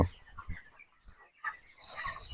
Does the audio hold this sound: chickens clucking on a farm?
yes